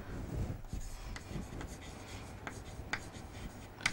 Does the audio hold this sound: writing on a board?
yes